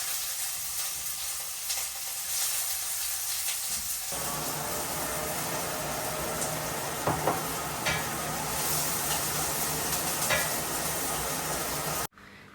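Whole dried red chilies, bay leaves, cumin seeds and chopped onion fry in hot oil, a steady close sizzle that swells louder a few seconds in, with brief stirring scrapes and a sudden cut near the end.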